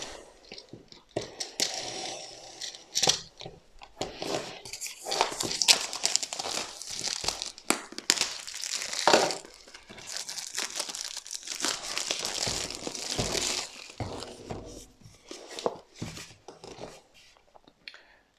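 Cardboard and plastic packaging of a self-balancing robot kit being opened, with steady crinkling, tearing and rustling throughout, close and moderately loud.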